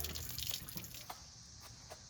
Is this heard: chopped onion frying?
no